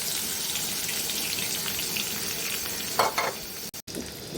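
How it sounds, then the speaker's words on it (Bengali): Onions frying in a pan, a loud continuous sizzle with stirring scrapes, a brief burst near the end followed by a couple of sudden dropouts. "এই পর্যায়ে আমরা পেঁয়াজ দিয়ে দেবো"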